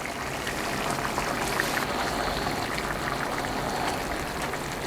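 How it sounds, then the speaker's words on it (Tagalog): Hot water poured into a pot of sinigang with chicken, a steady splashing, gushing stream that runs on without pause, close and fairly loud, with no talking. "So, lagyan pa natin siya ng tubig,"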